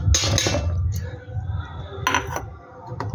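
Rice tipped into a mixer grinder jar in a home kitchen makes two short bursts of rattling, clinking grains against the jar, the first near the start and the second about two seconds later.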